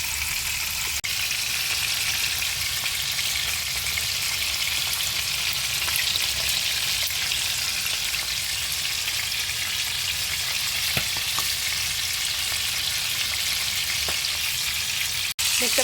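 Bele fish frying slowly over a low flame in a pan, a steady close sizzle and crackle that holds without a break through the whole stretch, with an occasional soft tap of a utensil.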